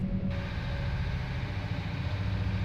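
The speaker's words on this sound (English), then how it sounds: "You can hear them engines rev up." Ship engines rev in the TransOcean 2 Rivals video game, giving a steady, loud, low rumbling drone that holds evenly throughout.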